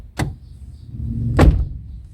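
A pickup truck door is opened: two sharp, close clunks about a second apart, with a low rumble between them and no talking.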